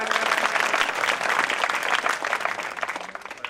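A hall audience at a Bidasar tehsil-level Prajapati talent award ceremony breaks into loud, dense applause welcoming a guest, sustained and even before thinning slightly toward the end.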